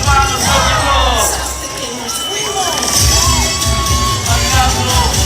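Loud outdoor crowd at a traditional dance group performance in Rosario de Lerma, Salta cheers, whoops and shouts continuously, with children's voices prominent throughout.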